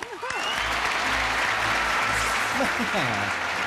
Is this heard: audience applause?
yes